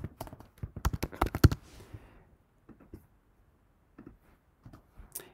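Fingers type on a computer keyboard in a quick, close burst of key taps, then a few sparse, softer keystrokes follow after a pause, with no one talking.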